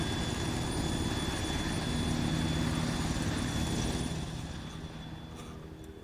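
A video-game helicopter in Arma drones steadily with a rotor thrum and engine whine, loud at first and then fading slightly toward the end, with no voices.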